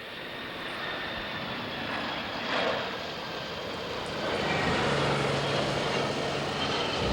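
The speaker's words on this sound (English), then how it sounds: "it is unsafe to stand while this aircraft is taxiing" An airliner taxis after landing at Los Angeles, heard from inside the cabin as a steady engine hum and rumble that swells slightly midway, with a faint low drone joining toward the end and no talk.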